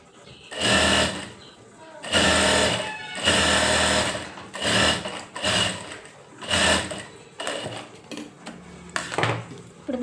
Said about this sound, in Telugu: ఇప్పుడు మళ్ళీ డబుల్ కుట్టు వేసుకుంటాం.